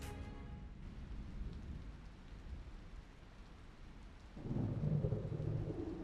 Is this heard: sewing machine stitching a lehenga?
no